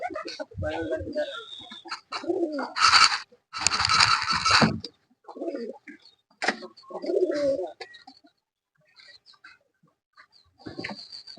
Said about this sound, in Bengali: সবগুলা দেশি কবুতর।